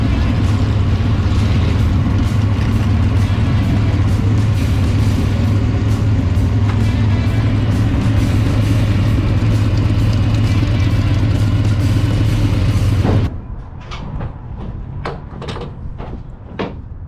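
A Chevelle's engine rumbles loudly at close range with a deep steady idle for about thirteen seconds at the Goodguys Nashville show, then drops away as it drives off, leaving scattered clunks and knocks.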